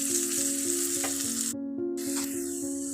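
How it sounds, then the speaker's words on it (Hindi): A ghee tadka of asafoetida, garlic, green chillies and dried chillies fries in a pan with a steady, close, continuous sizzle and no talking. "इसको हल्का भूनने देंगे हम"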